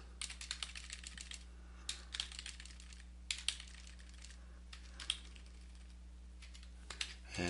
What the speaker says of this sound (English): So we'll type this real quick.